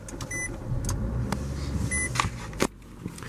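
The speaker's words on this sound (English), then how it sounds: "turning the car on, putting my foot on the brake, pushing the start button" Push-button engine start on a 2020 Nissan Altima, with chime beeps followed by the engine turning over and settling into a low idle, heard close up from inside the cabin.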